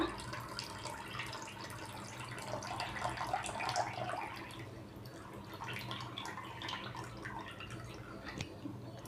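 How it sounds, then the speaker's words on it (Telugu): Soaking water is poured off kodo millet in a kitchen, giving a faint, steady trickle and splash with a slightly fuller gush partway through, low and continuous throughout. "నానబెట్టి నీరు పంపించుకోవాలండి"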